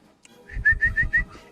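Person whistling a quick run of four or five short, bright notes in a bouncy rhythm, close and clear, with a soft puff of breath just before.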